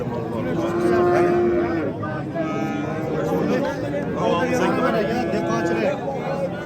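Cattle low and moo repeatedly in a busy livestock market in Beshariq, with long drawn calls rising over a steady background of crowd chatter and voices.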